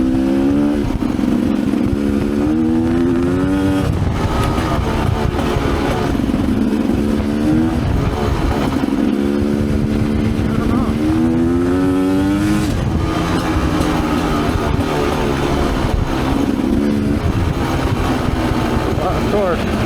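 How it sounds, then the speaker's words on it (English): Dirt bike engine revving repeatedly on a trail of rocks, whoops and roots, a loud close buzzing drone that rises and falls in waves, with a voice talking over it. "But it does rev cleaner."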